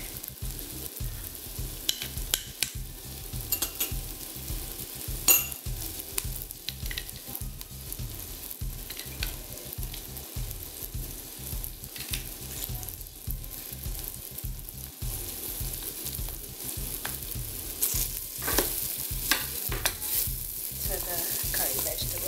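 Garlic fries in a pan with curry vegetables and spices, a soft continuous sizzle broken by regular scraping stirs and occasional clacks of a utensil, heard close and fairly quiet with no talking.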